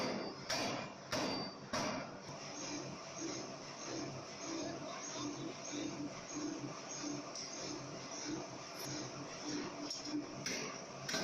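A 250 kilogram forging hammer pounds hot iron or steel, heavy repeated blows in an irregular rhythm over a constant loud industrial roar of machinery in the shop.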